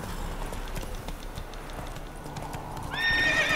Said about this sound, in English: Come on, horsey. Let me ride you, horse.